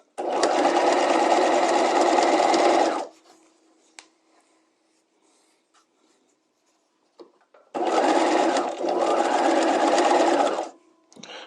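A sewing machine stitching cording against the edge of a bias strip for a piped seam, two loud, steady runs of whirring motor and needle clatter separated by a quiet pause with small handling sounds.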